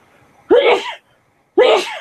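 Two loud sneezes about a second apart, close up, with silence between them.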